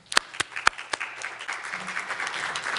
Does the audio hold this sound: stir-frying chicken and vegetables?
no